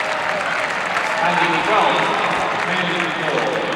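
Crowd applauding and cheering at a 1991 Syracuse versus Pennsylvania college lacrosse game on an afternoon in Syracuse: a steady wash of clapping and crowd noise throughout, moderately loud and diffuse.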